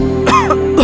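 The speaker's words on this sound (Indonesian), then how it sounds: "Masih batuk?" A single short throat-clearing cough, close and loud, a brief rasp lasting under a second.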